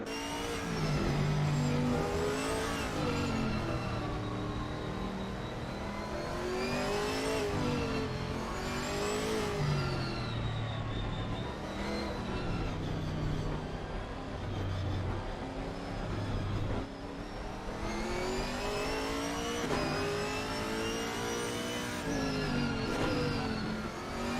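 GT4 race car engines from the Assetto Corsa Competizione racing game at the Oulton track, several cars revving and shifting in a loud, continuous pack with rising and falling pitch sweeps throughout.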